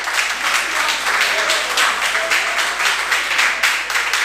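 Audience applause at an open mic poetry evening in Gorakhpur: a continuous crowd clapping, moderately loud and fairly even, with scattered bursts of sharper claps running throughout.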